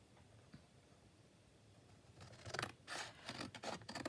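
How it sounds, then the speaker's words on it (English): Scissors cutting through a paper master board for a junk journal: after a quiet stretch, a run of close, crisp snipping and slicing strokes, one after another. "I'm going to cut this down here."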